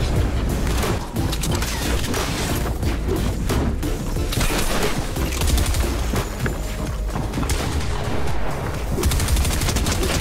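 An SMG fires in Fortnite during a chaotic fight, with dense, rapid bursts of gunfire and impacts running almost continuously at close range and full loudness.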